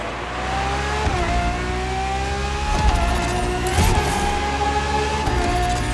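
A Ferrari FXX K supercar in The Crew Motorfest racing game revs hard and climbs through its gears, with three sharp upshifts breaking a loud, continuous engine whine heard up close.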